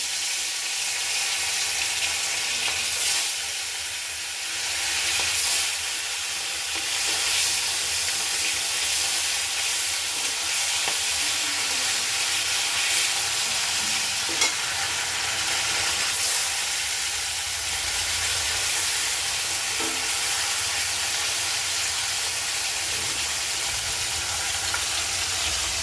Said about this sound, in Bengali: তেল গরম হয়ে গেছে, মাছটা ভেজে নিচ্ছি।